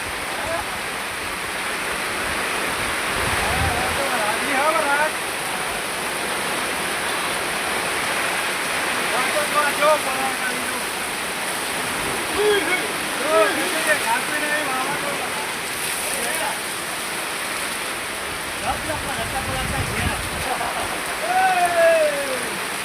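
Heavy rain pours down in a windstorm, a dense unbroken hiss with low gusty swells, and faint voices now and then beneath the downpour.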